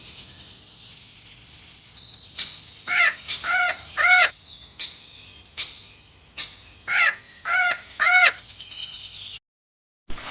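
Blue-and-yellow macaws in the Amazon forest give harsh, raspy squawking calls in bursts and pairs, loud and fairly near, over a quiet background hiss before a brief silence.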